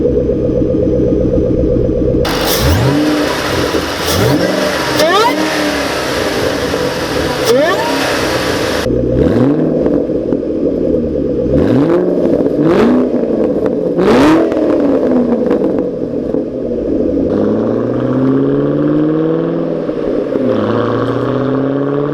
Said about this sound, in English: as you guys can tell from that exhaust clip